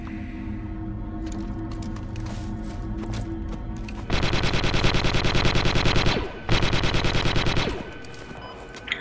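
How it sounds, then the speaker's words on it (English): Loud sustained automatic blaster fire rattles in rapid bursts in the Star Wars video game Galactic Contention. One long burst is followed by a brief pause and a second burst, over a steady mechanical background drone. "What are you guys shooting at?"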